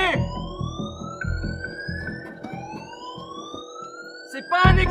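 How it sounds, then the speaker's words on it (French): A building evacuation alarm sounds, a rising electronic siren tone sweeping upward over and over, with busy movement and noise beneath it and a loud burst at the end. "On a 5 minutes jusqu'à la fin de l'alarme."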